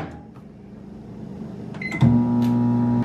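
A microwave oven cooking rice hums softly, then a short beep sounds and a louder, steady electric drone starts and runs for about a second before cutting off.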